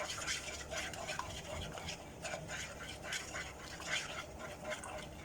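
Mixture stirred in a bowl while baking Dominostein, a steady scraping and swishing with repeated strokes close by, over a busy kitchen background with faint voices.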